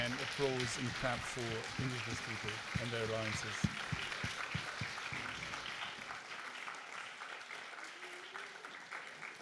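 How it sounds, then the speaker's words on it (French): An indoor audience rises and applauds in tribute to indigenous people, a dense wash of clapping that fades gradually, with a voice speaking over the start. "j'invite ceux qui souhaitent m'accompagner à me lever pour eux et applaudir en hommage au peuple autochtone et à votre alliance"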